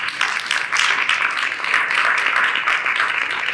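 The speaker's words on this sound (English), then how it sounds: "Give your parents a round of applause for everything they've done for you." A crowd at a high school athletics signing day applauds student athletes' parents, a dense, steady wash of many hands clapping that carries on throughout without a break.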